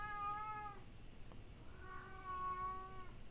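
A house cat meows for attention, two drawn-out, tonal cries indoors with a short pause between them, fairly close and moderately loud, with no talking over them.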